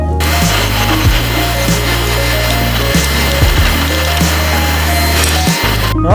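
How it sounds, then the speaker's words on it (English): A table saw cuts a very shallow rebate in film-faced plywood, giving a loud, close whining buzz with steady low tones that shift as each pass is made. "I'm just going to cut a very, very, very shallow rebate or rabbet"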